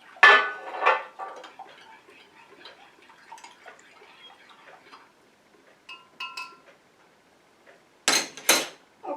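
A utensil stirs water into an oil base in a jar for homemade comfrey root lotion, giving scattered soft clinks and scrapes, a couple of faint ringing taps midway and sharper knocks near the end, with no talk.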